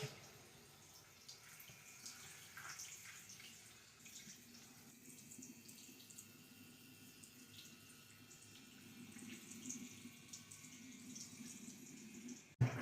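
A Gillette Fusion razor is rinsed under a running tap, a faint steady stream of water with soft splashes and drips, quiet throughout with a small clack at the end.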